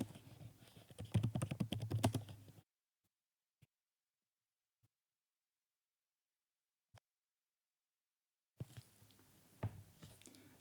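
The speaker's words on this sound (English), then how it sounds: "Open your command prompt or terminal and type pip" Rapid, dense keystrokes rattle on a computer keyboard as a command is entered in a terminal, then fall to near silence with a few isolated clicks before another short burst of typing; close and soft, no speech.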